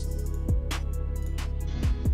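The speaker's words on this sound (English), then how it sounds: "Okay, I'm also using a perk sound." Percussion sample in a hip-hop beat, a perc hit, pops out twice in a looping pattern over a steady deep bass bed, with a brighter swishing accent between hits.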